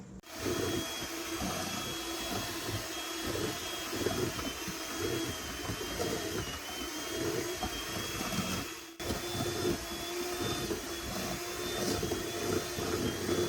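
A blender grinds raw turkey meat into ground turkey, a loud, steady motor whine with a high pitched tone running continuously, briefly dipping once partway through before resuming at full strength.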